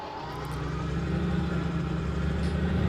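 Steady engine drone of a pickup truck in a farming video game, idling and running continuously at a constant, fairly loud level with a low rumble throughout.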